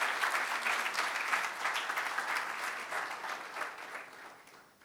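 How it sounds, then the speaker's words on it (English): A dense, steady round of audience applause for the organizers at the closing of the PMI Africa Conference 2019, loud and continuous before slowly fading toward the end. "If we give them a round of applause"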